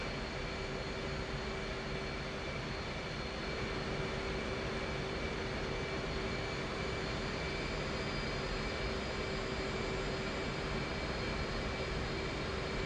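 F/A-18 jet engine in the flight simulator DCS World, a steady broadband roar with a constant whine, droning evenly and unbroken with no talk.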